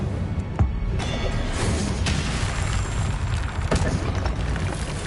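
An Incendio fire spell cast in Hogwarts Legacy on PS5, loud rumbling bursts and booms of magical combat in a continuous dense roar with a few sharper impacts.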